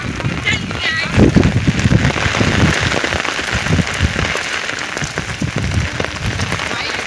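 A loud, unbroken downpour drums outdoors on an umbrella and surrounding surfaces, with people talking over the constant hiss.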